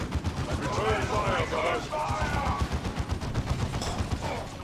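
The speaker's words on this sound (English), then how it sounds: "That rocket launcher is very effective, especially when he shoots high explosive ammunition" Rocket launcher firing high explosive ammunition amid battle in the strategy game Dawn of War 2, repeated heavy thuds and blasts in a busy combat mix, with game voices speaking over it.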